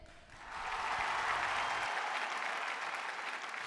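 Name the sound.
studio audience applause welcoming team 2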